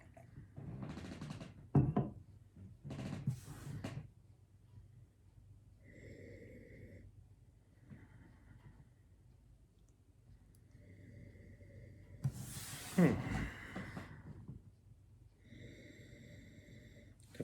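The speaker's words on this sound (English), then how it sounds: "we'll get a little sniff here." Someone sniffs a glass of non-alcoholic dry-hopped IPA beer, several short close nasal inhales and breaths in bursts, with faint background tones between them.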